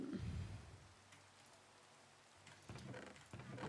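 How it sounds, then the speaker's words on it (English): Steady rain falls in the video game Minecraft, a soft continuous hiss of drops with no talk, swelling slightly at the start and end. "I don't like the rain."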